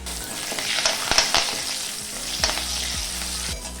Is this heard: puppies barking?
no